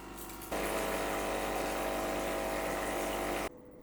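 A Cowsar CM5020B-UL commercial espresso machine in descaling mode hums steadily as its pump drives water through for about three seconds, starting and stopping abruptly, loud and close with no talk.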